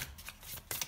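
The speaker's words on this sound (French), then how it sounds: "Je vais battre les cartes à côté parce que sinon ça m'encombre" Tarot cards being shuffled by hand, soft papery riffles and slides in short bursts, close and quiet.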